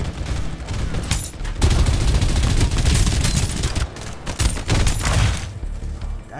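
Rapid bursts of laser weapon fire in the battle royale video game Fairlight 84, loud and close, coming in dense clustered volleys with brief pauses between them and no talk.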